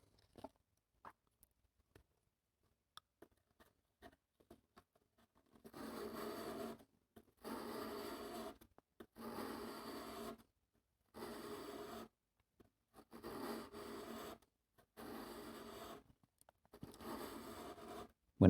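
An engraving burin being sharpened on 600-grit abrasive for stone setting: a few faint scrapes, then repeated rhythmic rasping strokes in bursts of about a second each with brief pauses between, close and moderately loud, no talking.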